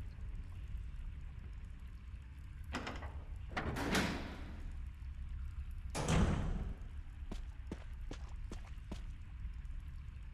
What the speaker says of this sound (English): Let's check out this door